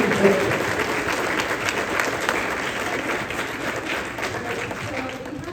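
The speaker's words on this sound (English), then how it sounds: "let's give him a round of applause" A summit audience applauds a speaker, with sustained clapping from many hands filling the hall at a steady level and easing slightly toward the end, with a brief voice near the start.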